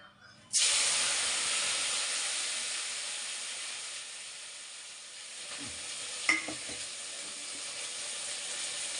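Chillies dropped into hot oil in a home kitchen erupt into a sudden loud sizzle that settles into steady frying hiss, with a few clinks of stirring partway through.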